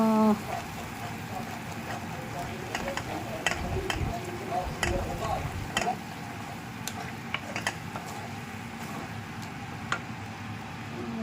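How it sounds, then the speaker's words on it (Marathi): Mutton for sukka fries in oil with masala, giving a steady sizzle and crackle broken by scraping and stirring clatter from a utensil, with a voice speaking quietly at times. "चांगलं फ्राय होते."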